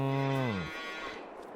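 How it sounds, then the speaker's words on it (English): A Brown Swiss cow in Farming Simulator 25 gives a single loud, drawn-out moo that dips in pitch over its first half second, followed by quiet barn ambience. "So, we've got some cows in here."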